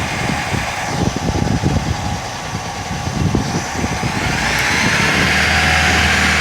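A Tofaş car engine, just fitted with a new radiator, runs close by with a rough, rumbling idle. It then climbs into a steady, louder rev that it holds to the end. No voices are heard.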